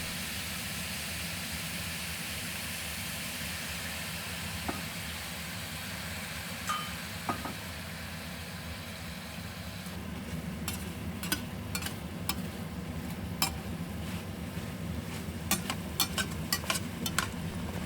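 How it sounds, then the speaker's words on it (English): Red braised pork belly (hong shao rou) in a wok after cooking wine is added: a steady hiss of frying that turns into sharp, scattered crackles and pops, close and without talk. "Let it cook until it sizzles again."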